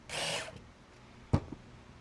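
A power drill drives screws back in during an HD wire kit install, with a short whirring burst under half a second long followed by a faint clunk.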